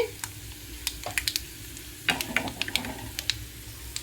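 Tempering spices crackle and sizzle in hot oil for a mango chutney, with sharp irregular pops and spits over a low background hum.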